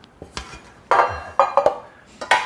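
A large metal muffin pan clatters and clinks in a few sharp bursts, bright and close, as it is handled and set down.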